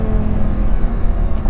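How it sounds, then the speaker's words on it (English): A 2008 Lamborghini Gallardo's engine blips and rumbles up close on a downshift, a loud, deep, throbbing growl over a brief moment, without speech. "Downshifts are nice, as you guys can tell."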